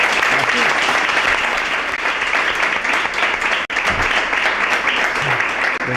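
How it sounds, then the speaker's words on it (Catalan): Audience applause at a poetry book presentation for its author, steady dense clapping from a seated crowd for about six seconds with a brief dip midway, the room's reverberation filling the gaps. "Un aplaudiment per a l'autor."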